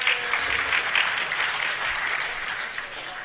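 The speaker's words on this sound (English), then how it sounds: "Pity applause." Brief burst of audience applause at a lockpicking workshop during a ToorCon conference, a short round of clapping that swells and fades within a few seconds.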